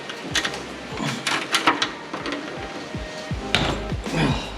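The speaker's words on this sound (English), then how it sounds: "This guy right here is your oil drain bolt. Let's crack it open." A wrench works loose the oil drain bolt on a 2024 Yamaha MT-07 motorcycle, heard as a series of close metallic clicks, knocks and ratcheting taps.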